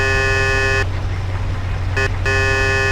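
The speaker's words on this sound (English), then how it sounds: "you should warn them by sounding the car horn" A steady car horn blares in long sustained tones in the PC video game Mafia, cutting out twice briefly before resuming, over a constant low engine rumble.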